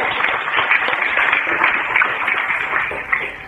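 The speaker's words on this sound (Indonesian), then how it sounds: "Oke, beri tepuk tangan dulu saudara." An audience at a Bible teaching session claps in a loud, dense, steady burst that carries on throughout, close and busy, with no voices over it.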